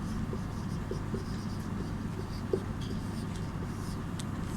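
A teacher writes a heading on the board in a Hindi class, with soft taps and scratches from the writing over a steady low room hum and no speech.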